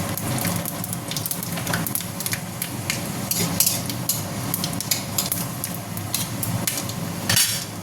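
Panch phoron, the five-spice mix, crackling in hot oil in a pan for a vegetable curry, with a steady close sizzle and scattered clinks of a spoon against the pan throughout.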